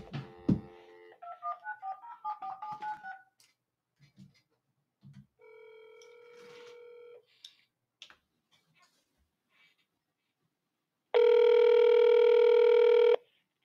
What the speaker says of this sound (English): This ain't nothing but a phone call.